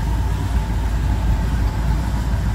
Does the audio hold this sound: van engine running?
yes